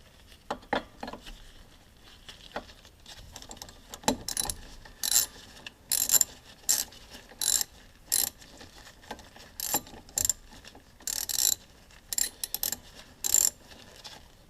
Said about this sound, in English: ratchet to tighten them back up